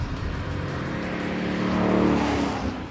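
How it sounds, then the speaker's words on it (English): A 2019 Ford Mustang GT's V8 engine rumbles with a deep, steady growl that swells slightly as it revs, up close and without any voices. "central to that is the rumbling V8 engine."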